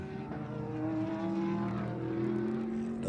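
Ferrari GT race car in a GT America pre-qualifying session at Indianapolis, its engine note droning steadily and close for the whole stretch, pitch easing slightly as it holds speed on track.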